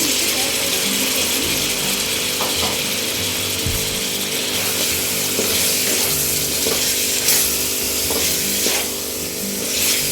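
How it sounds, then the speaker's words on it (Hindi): Chopped tomatoes fry with meat and spices in a pan for chana dal gosht, giving a steady, dense sizzle that runs the whole time with small clanks and scrapes from stirring. "और मैं टमाटरों की भी गोश्त के साथ भुनाई कर लूँगी तब तक जब तक के टमाटरों का पेस्ट ना बन जाए।"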